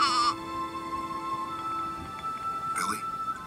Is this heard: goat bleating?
yes